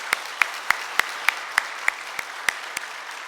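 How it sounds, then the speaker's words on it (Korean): Church congregation at an Easter service clapping in a slow, even unison rhythm, about ten sharp claps spaced evenly, clear and moderately loud. "다시 한번 영광의 박수를 올려드리겠습니다."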